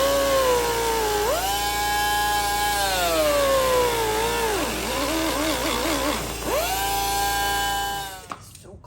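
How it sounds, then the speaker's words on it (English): A power tool whines as it cuts into a 4th Gen 4Runner OEM bumper, the pitch rising and falling as the load changes, loud and close for several seconds before stopping abruptly. "I'm gonna cut that up a little bit, like 1/8 of an inch or so."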